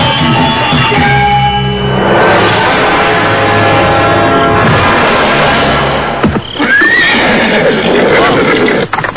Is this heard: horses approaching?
yes